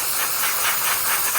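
Steady, continuous steam hiss from a Jura Impressa F8 coffee machine, loud and close, holding an even broadband rush for the whole moment with no pauses or talk.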